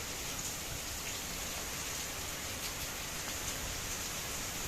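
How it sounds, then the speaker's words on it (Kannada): Steady heavy rain pouring in Mysore, an even, continuous hiss of falling water on surfaces, fairly faint and constant with no voices. "ಈ ಮಳೆ ಹಿಂಗೆ ಹುಯ್ತೈತೆ ಮೈಸೂರಲ್ಲಿ ಇವತ್ತು"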